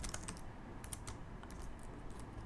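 Rapid, steady typing on a computer keyboard while writing CSS code, with close, crisp keystroke clicks running continuously over a low room hum.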